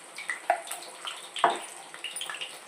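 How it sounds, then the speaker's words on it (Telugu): Garlic and mustard seeds sizzle and sputter in hot oil for a lentil and bottle gourd curry, with a soft crackling bed broken by sharp pops and spits, close up and with no voices. "ఆయిల్ వేడెక్కిందండి, ఎల్లుల్లిపాయలు వేసేసాను, ఆవాలు"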